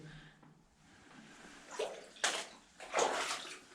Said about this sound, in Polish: No nie jest to przyjemne iść po tej wodzie, jak się ma takie po prostu zwykłe buty